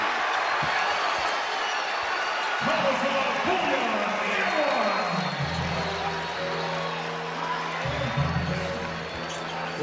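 San Diego State Aztec basketball crowd cheering at a Mountain West Conference men's semifinal, a dense sustained roar of fans filling the arena under continuous play-by-play commentary, with swelling horn-like tones partway through.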